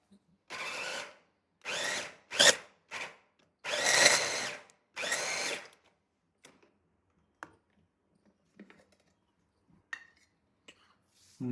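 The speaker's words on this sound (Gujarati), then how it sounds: "આપણે ભૂકો કરવાનો હોય હવે એમાં મશીનમાં" A kitchen grinding machine whirs in five short loud bursts as food is ground into powder, followed by quieter clicks and handling noises.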